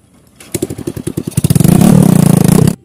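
A motorcycle passes close by with a rapid, throbbing engine note. The sound swells from a stutter into a loud, sustained drone, then cuts off, with no speech over it.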